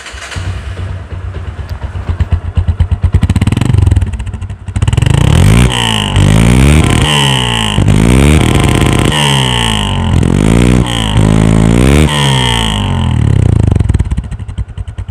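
Bajaj Discover 135 motorcycle after a full engine service and repair, exhaust silencer unmodified, heard up close as the throttle is blipped repeatedly in rising and falling revs over a steady idle, loud and alone.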